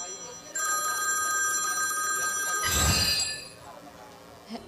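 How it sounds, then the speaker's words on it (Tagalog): A telephone bell rings steadily on a Philippine TV variety show set, a clear repeated ring lasting about three seconds with a short burst of crowd noise near its end, then quiet. "Kaninong telepono yun?"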